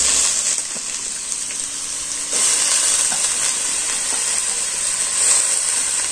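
Thinly sliced potatoes sizzle and fry steadily in a hot pan, a continuous bright hiss with occasional stirring scrapes, close and fairly loud, with no talking.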